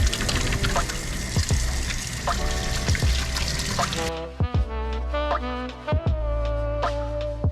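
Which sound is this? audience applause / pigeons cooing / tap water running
tap water running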